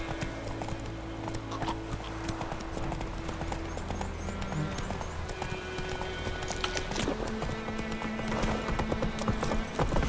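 Hoofbeats of Roach, Geralt's horse in The Witcher 3, galloping steadily and close over a game soundscape, with a brief whinny and fast rhythmic clip-clop throughout.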